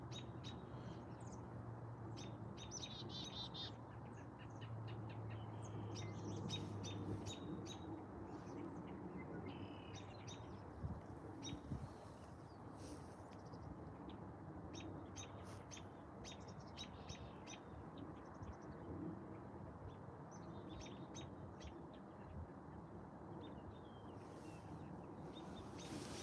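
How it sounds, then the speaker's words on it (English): Birds chirp and tweet in the background after a Rocky Mountain rain storm, with scattered short calls over a faint, steady outdoor hum and no voices. "You can hear the birds in the background."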